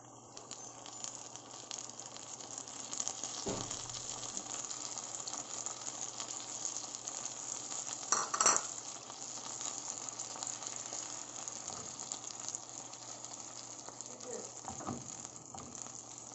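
Pork and beans with hot dogs sizzle steadily in a frying pan, a continuous close hiss lasting throughout, broken by a couple of brief utensil knocks against the pan.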